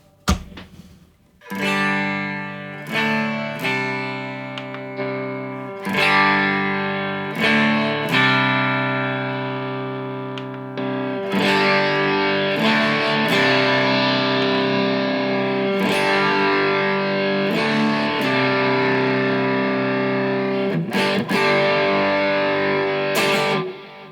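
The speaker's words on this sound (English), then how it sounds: "you can actually play through the inbuilt speaker that is built into the guitar" Electric guitar chords and single notes with a fuzzy, boxy tone from the small built-in speaker of a Nova Go Sonic carbon fiber guitar, played alone with sustained ringing and some distortion.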